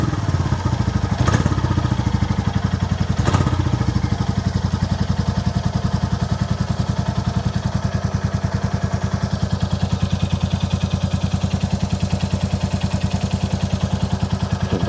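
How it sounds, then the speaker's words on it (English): A Royal Enfield Classic 350 single-cylinder motorcycle, rebuilt after being stolen and wrecked, idles steadily with an even thumping beat and light tappet clatter, loud and close, with a couple of brief sharp knocks early on. "That was quite an easy starter."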